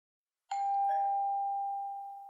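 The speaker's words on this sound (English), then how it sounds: "until the doorbell rang" A single electronic doorbell chime rings out after a brief silence, clear and close, its tone ringing on and slowly fading.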